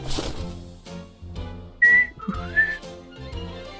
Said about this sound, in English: I don't remember the whistling of the fox.